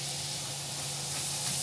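Minced garlic sizzles steadily in a hot pan while chicken and rice are being prepared, a continuous bright crackling hiss that holds close and even throughout.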